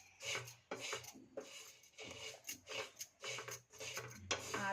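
Shavige vermicelli roasting in oil over a low flame, a soft, steady scraping and rasping as the strands are stirred in the pan, coming in repeated strokes at close range with no talking.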